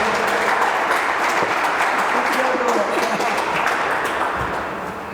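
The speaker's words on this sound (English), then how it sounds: "please give a round of applause to the woman who is here working for us day in," An audience at a Cameroon flag raising ceremony claps steadily in dense, continuous applause that stays loud and fades slightly at the end.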